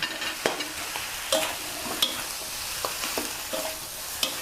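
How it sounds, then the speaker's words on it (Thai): Cabbage and Chinese kale sizzle steadily in a large hot wok, punctuated by regular scraping and clanking of a spatula stirring, close and continuous with no talk. "ผัดผักให้ยุบก่อนนะคะ"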